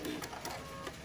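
Sewing machine stitching through foundation paper for paper-pieced quilt blocks, a steady quiet mechanical whir and patter running continuously through the short stretch with no talk.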